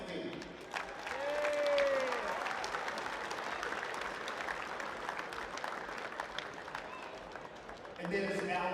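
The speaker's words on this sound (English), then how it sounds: "Please clap for them." A crowd applauds tournament staff inside a gym at an under-18 national basketball tournament, sustained clapping that swells early then holds steady before tapering, with a brief whistle-like tone and murmuring voices underneath.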